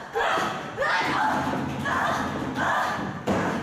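Thudding strikes traded between two female wrestlers in a Beyond Wrestling ring, several dull impacts at irregular intervals under crowd noise and commentary.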